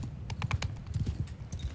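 Horse hooves clip-clopping in Mount & Blade II Bannerlord, a quick run of light hoof beats in an uneven trotting rhythm, close and moderately quiet, with no talk over it.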